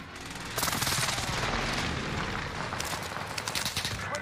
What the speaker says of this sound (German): Oh mein Gott, hier ist irgendwie Airstrike.